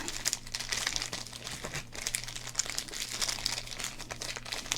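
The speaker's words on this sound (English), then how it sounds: "Some good crinkles there." A 1990 Fleer football card pack wrapper crinkles up close, with continuous soft crackling and rustling of the plastic foil and no talking.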